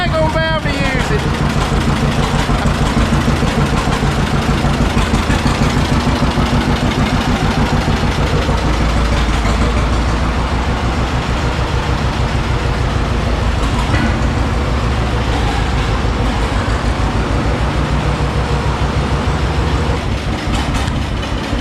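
An old tractor engine runs steadily and loudly on a farm during wheat harvest, a low continuous rumble with a throbbing idle rhythm that never lets up.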